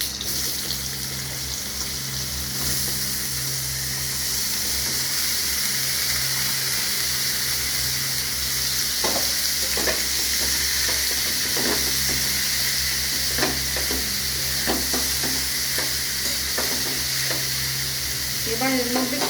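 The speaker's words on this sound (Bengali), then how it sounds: "এবার একটু নেড়ে এর মধ্যে এই যে চাল কুমড়ো, এই চাল কুমড়ো কুচিয়ে রেখেছি সেটা এখন দিয়ে দেবো।" Chopped ash gourd hisses and sizzles steadily in a frying pan with tempered spices, while a spatula scrapes and stirs in irregular bursts through the later part.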